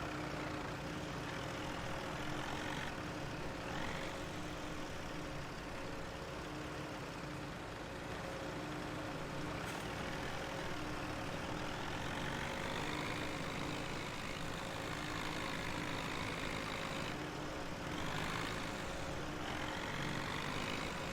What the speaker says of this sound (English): I really like this little tractor. It's just so much fun to drive.